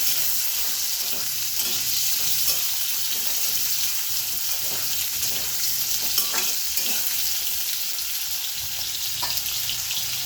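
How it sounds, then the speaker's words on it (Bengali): Sliced potatoes and onions fry in hot oil in a pan for a fish curry, a steady close sizzle with scraping stirring sounds breaking through now and then, no talking. "আলু আর পেঁয়াজ ভালো করে ভেজে নেব।"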